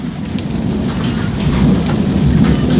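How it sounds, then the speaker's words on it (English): A thunderstorm rolling through outdoors, with steady heavy rain pattering on surfaces and low rumbling thunder swelling beneath it, close and continuous throughout. "we got a storm rolling through"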